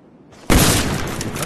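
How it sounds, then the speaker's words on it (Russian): A gunshot in the Call of Duty Black Ops video game on the Nuketown map: one abrupt loud blast after near-silence, followed by a sustained ringing roar that slowly fades. "Хороший выстрел."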